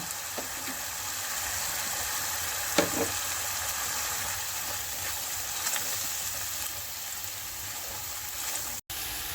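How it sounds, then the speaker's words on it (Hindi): Ginger-garlic paste, garam masala, black pepper and other spices fry in hot oil for an anda chana curry, giving a steady, close sizzle throughout with a few faint stirring clicks. "लहसुन अदरक का पेस्ट, गरम मसाले और काली मिर्च के अलावा तमाम मसाला जात डाल देंगे और उस वक्त तक भूनेंगे जब तक कि ऑयल सेपरेट नहीं हो जाता।"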